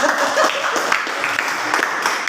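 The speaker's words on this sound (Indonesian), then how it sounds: "kita kasih tepuk tangan dulu" A classroom of trainee teachers claps together in a short, fairly close burst of applause that continues steadily throughout.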